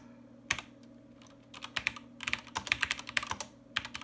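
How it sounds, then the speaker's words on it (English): Typing on a SWTPC 6800 computer keyboard, crisp close key clicks in irregular bursts, starting with a single press and then rapid clusters of keystrokes over a faint steady hum. "I'll type it again."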